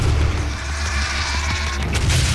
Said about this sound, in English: I love that little explosion.